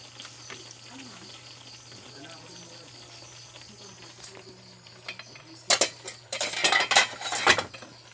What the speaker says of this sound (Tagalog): Lalagay ko na yung dahon ng ampalaya